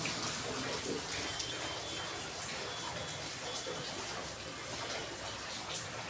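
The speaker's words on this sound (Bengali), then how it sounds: "বাইরে প্রচণ্ড বৃষ্টি হচ্ছে" Heavy rain pours in a dense, continuous hiss, steady and enveloping with no pauses.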